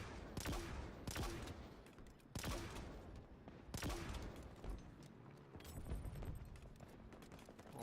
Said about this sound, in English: Hydra shoots grenades. That's good. It's a grenade launcher.